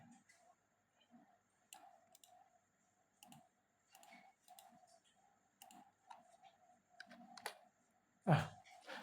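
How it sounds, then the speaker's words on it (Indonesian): Quiet, sparse clicks of typing on a laptop keyboard come in short bursts with gaps, ending with a louder thump, in a quiet room while a wireless print server is being set up. "Kita ketik saja ini."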